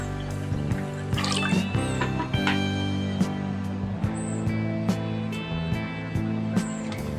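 Three cups of water poured into a cooking pot for tuna kusido: a steady splashing trickle with scattered drips, close and moderate, over a constant low hum, with no talking.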